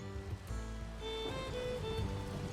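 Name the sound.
rain in the video game Minecraft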